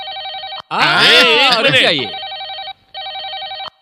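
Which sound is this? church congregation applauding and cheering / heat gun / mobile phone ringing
mobile phone ringing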